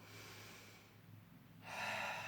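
Breath drawn into the ribs during a Pilates thoracic breathing exercise, a close, soft airy sound that fades midway and then returns as a stronger, fuller breath.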